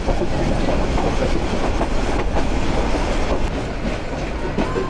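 A Balaka commuter train of Bangladesh Railway rolls steadily along the rails near Dhaka, a loud, continuous rumble with rhythmic wheel clatter throughout.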